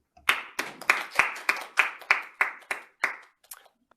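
A small audience at a Korean public policy forum claps for the keynote speaker, a Seoul National University public administration professor, in about ten sharp, evenly spaced claps that fade out quickly.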